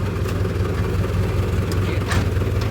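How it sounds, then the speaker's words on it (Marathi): A farm tractor engine runs with a steady, low throbbing drone. It is close and fairly loud, with no break across the whole stretch. "आता चालवणार आहे आपला भाऊ ट्रॅक्टर."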